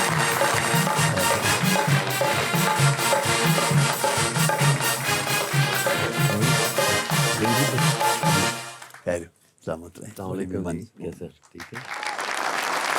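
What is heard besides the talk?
audience applause welcoming a poet on stage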